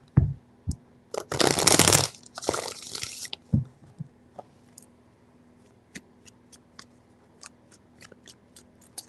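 Tarot cards shuffled in three quick bursts, with a dense riffling rustle near the start followed by scattered light taps and clicks in a quiet room.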